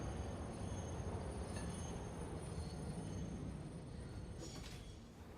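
A train rolls through a factory-building video game with a faint, steady rumble and a broad wash of wheel noise, continuous and uneventful, with a brief brighter swell near the end.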